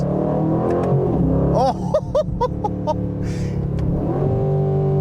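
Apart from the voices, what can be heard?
2025 Aston Martin Vantage exhaust cracks and pops while revving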